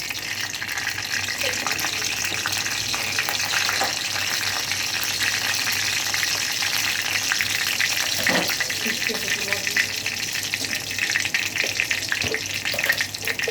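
Whole cumin seeds sizzling in hot oil in a home kitchen, a steady loud frying hiss with occasional pops and sharper crackles throughout.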